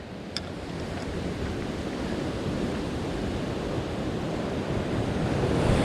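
Ocean surf crashes and washes over rocks along a shore where waders are needed, a steady, loud roar of breaking waves with wind buffeting close to the microphone throughout.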